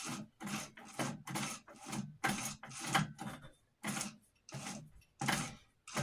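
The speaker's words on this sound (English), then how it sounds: "needle's going up and down" An Amarko 950-B sewing machine's mechanism is turned through a rotation as the needle moves up and down, giving a close series of rhythmic mechanical clunks and creaks separated by brief pauses.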